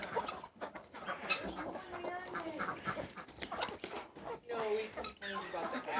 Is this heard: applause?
no